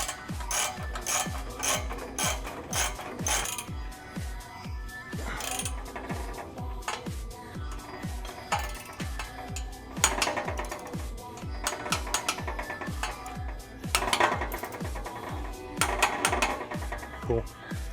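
A hand ratchet clicks in steady, repeated bursts as it tightens 14 mm flange bolts at the Y-pipe of a Stillen cat-back exhaust on an Infiniti Q50 VR30, with close rhythmic pawl ticks and brief pauses between strokes.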